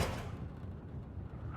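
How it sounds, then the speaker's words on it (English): A door pushed shut against a blizzard, a rush of wind and muffled thud at the start, then steady low storm noise with no voices. "Come inside, shut the door!"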